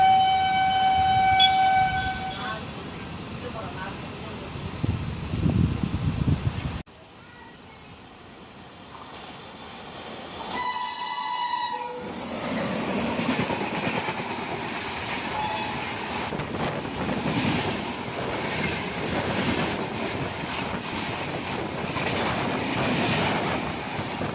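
An Amrit Bharat Express train rushes past at around 110 km/h, a loud close roar of wheels and carriages that drops briefly then builds into a long sustained rumble, with horn tones sounding early on.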